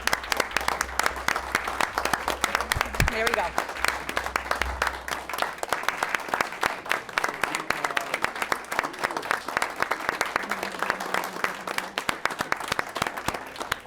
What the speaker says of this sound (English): One last round of applause for you all.